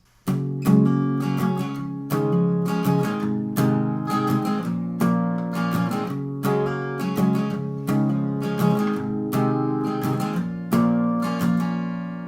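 Steady, percussive strums of palm-muted acoustic guitar, evenly spaced and fairly close, with short damped attacks and no voices.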